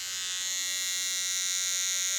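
The trimmer side of a Philips Norelco Bodygroom 7000 body shaver hums continuously, a steady electric buzz slightly softer and duller than a foil head, heard up close and alone.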